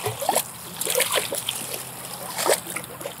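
A caught snook released back into cold water, making a short splash and splatter with trickling water, close by, with brief voices around it.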